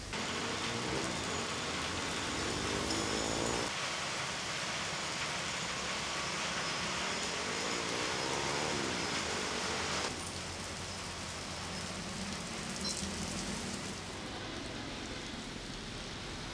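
Steady rain falls at a city intersection in Trà Vinh, Vietnam, with a dense, even hiss and continuous traffic rumble. The wash dips slightly partway through, and there is no talking.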